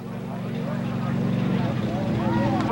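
A Ford mud bog truck with a 428 engine rumbles in a low, steady drone that builds slightly, while an announcer talks over it at a 1995 Plymouth mud bog event.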